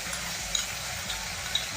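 Chickpeas being stirred together with vinegar, tomato ketchup and other sauces in a pan, a soft scraping and sizzling mix with small clinks of the spoon against the pan, close by and fairly quiet.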